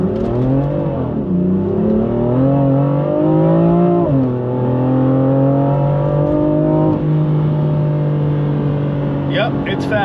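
A 2019 BMW M4 launches hard from a standstill on a cold road, its engine revving up through rising gear pulls with a brief shift dip, loud and close, with a voice talking over it.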